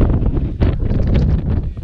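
Gusty wind buffets the microphone in loud, uneven bursts, rising and falling over a couple of seconds.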